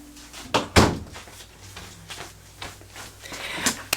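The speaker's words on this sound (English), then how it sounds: "I gotta open the door for my dogs." A house door is handled and opened to let dogs out, with a couple of sharp knocks and thuds standing out over quiet room noise.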